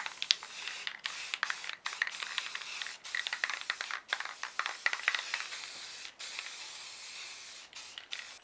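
Aerosol spray paint applies a white top coat over a droid arm in a series of short hissing bursts separated by brief pauses, close up and fairly quiet, with faint rattles between.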